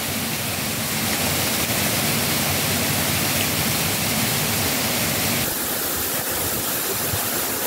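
Constant rushing hiss of rain mixed with the roar of a waterfall at a campsite in the Serra de Dom Simão hills, loud and unbroken throughout, with a slight change in texture near the end.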